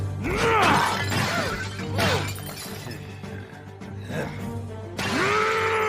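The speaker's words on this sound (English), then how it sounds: "So we're gonna smash them instead." Skeletons being smashed in an anime battle give off repeated loud shattering crashes and breaking impacts, several in quick succession over a steady soundtrack background.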